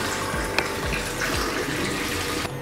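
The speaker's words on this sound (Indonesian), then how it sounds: "kalian itu sebenarnya harus nyalakan air mengalir karena biar nggak ngerusakin pipa di dalam wastafel ini" Tap water runs steadily into a kitchen sink, a close and continuous splashing rush with a soft knock near the start.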